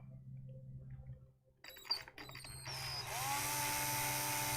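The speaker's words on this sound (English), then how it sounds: "I was not anticipating actually using the power drill on this." A power drill runs weak on a low battery, used on a 3D-printed miniature: quiet ratcheting clicks start and stop, then the motor spins up into a steady whine that holds to the end.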